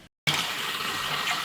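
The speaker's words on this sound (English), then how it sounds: "you can see here the water's back on. It's spitting out a little bit from the air that was caught in the pipes" A kitchen faucet, just repaired on a Delta Diamond Seal handle, gushes back on after a brief silence, spitting and sputtering as trapped air clears from the pipes in a steady loud rush.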